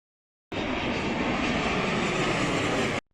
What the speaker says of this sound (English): relaxing and noticing planes passing overhead is truly a unique and impressive experience